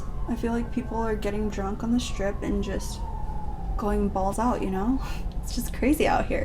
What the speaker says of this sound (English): Oh, sirens on the strip.